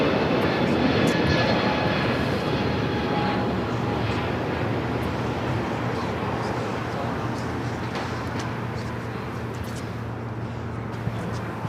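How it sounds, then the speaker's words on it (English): A United Boeing 777-200 jet roars on takeoff, a broad, steady engine rumble and hiss that slowly fades over several seconds, with faint talk underneath. "We also have a United 777-200, flight 3782, will be taking off to Newark"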